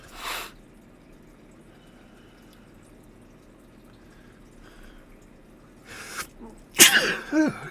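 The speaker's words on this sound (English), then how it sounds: "I got sneezes today." A single loud, sharp sneeze bursts out near the end, alone and close by, preceded by a few faint breathy noises over a quiet room.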